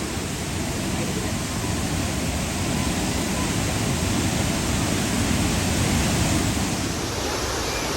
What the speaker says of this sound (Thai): น้ำตก บักเตลนะครับ หรือว่าน้ำตกห้วยหลวงนะครับ